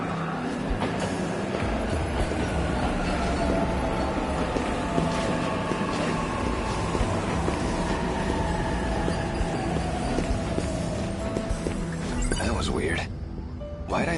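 A train pulls into a station in the video game 13 Sentinels: Aegis Rim, a steady loud rumble with long sliding tones that fade as it settles, ending in a brief quieter pause.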